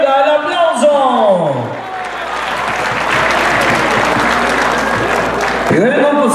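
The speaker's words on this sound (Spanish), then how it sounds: "¡Venga, el aplauso!" A crowd at a jaripeo fair in Pololcingo, Guerrero, breaks into loud, steady applause for a few seconds, with an announcer's amplified voice just before and after it.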